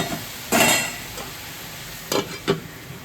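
Chicken curry with soybean being stirred in a pot, a low simmering sizzle with a few distinct spoon scrapes and knocks against the metal, close by and without talk.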